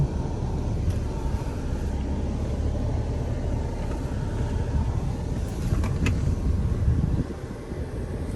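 Isuzu V-Cross 4x4 pickup driving off-road on a rough track with light throttle, giving a steady, loud low engine rumble and drivetrain drone throughout, with a few brief clunks near the end and no talking.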